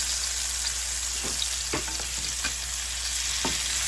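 Chicken pieces flipped in a hot pan, a dense continuous sizzle of frying oil broken by a handful of sharp scraping turns, close and loud with no talking.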